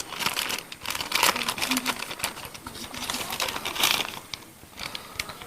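Plastic packaging crinkles and rustles up close as hands search inside the cover of a boxed neckband earphone set, a steady busy crackle with sharp crackling peaks and no talk.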